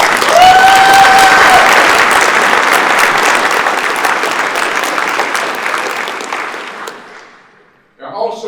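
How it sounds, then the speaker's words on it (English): An audience gives Rick a round of applause, a loud, dense burst of clapping with a brief cheer that slowly fades out, followed by a voice resuming speech. "Let's give Rick a round of applause."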